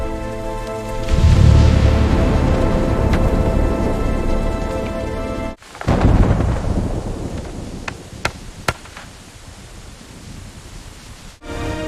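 A heavy thunderstorm with pouring rain: two long, loud rolls of thunder rumble up close over a dense hiss of rainfall, separated by a sudden brief dip, then the rain continues with scattered sharp cracks.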